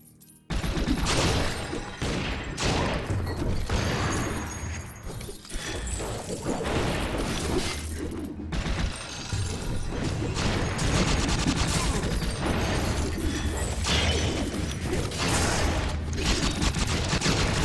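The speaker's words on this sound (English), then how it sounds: "Sorry, Phantom, I shot you twice there." Rapid gunfire from the Western-themed video game Secret Ponchos, with repeated shots and bursts over dense, continuous game noise and music throughout.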